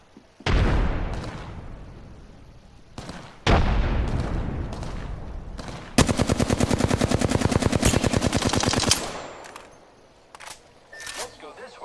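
Rapid automatic gunfire in a video game, with single heavy shots at first and then a sustained loud burst of evenly spaced rounds lasting about three seconds, under occasional talk.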